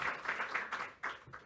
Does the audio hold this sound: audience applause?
yes